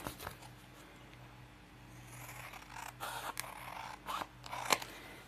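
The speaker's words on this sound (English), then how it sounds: "need to find my other scissors" Close scissors snipping through paper in a series of crisp cuts, growing louder and more frequent toward the end, with no talking.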